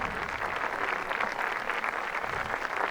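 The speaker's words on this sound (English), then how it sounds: "Warm applause of admiration for this Masters rookie" Gallery spectators at the 2021 Masters golf tournament final round give warm applause, a continuous clapping wash heard at a moderate distance, sustained and even throughout.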